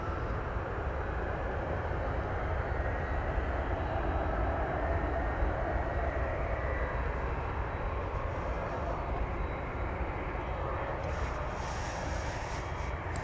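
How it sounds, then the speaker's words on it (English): An Airbus A220 airliner arrives at DFW Airport at night, a continuous broad jet roar that stays steady and fairly loud throughout with no talking. "It's an Airbus A220 arriving from Salt Lake City, flight 2796."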